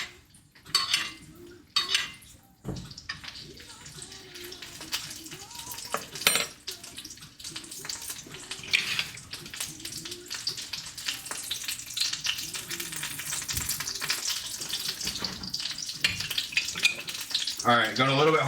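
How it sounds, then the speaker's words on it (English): Cod fillet searing in a hot pan, sizzling and crackling close up with scattered clinks of utensils against cookware and occasional scraping, steady frying hiss throughout and louder spitting bursts near the end. "going a little bit harder on the sear"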